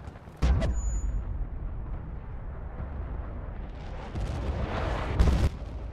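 Gunfire from the Battlefield Bad Company 2 game, Vietnam setting: a loud sharp shot opens, followed by a rumbling stretch and another heavy blast near the end, with no talk.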